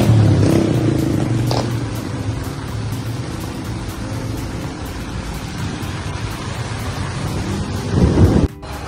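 Heavy rain falls steadily during a typhoon flood, with a thick wash of noise and low rumbling that may be thunder or passing traffic. A louder burst comes near the end.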